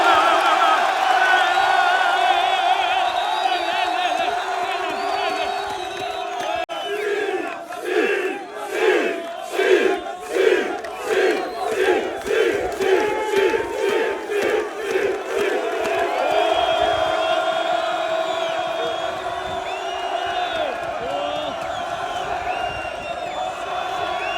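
Olympic Ouezzane fans in a packed football stadium chant angrily after a disallowed goal. A loud roar swells into a rhythmic, pulsing chant of repeated shouts, then settles back into a dense, sustained crowd din.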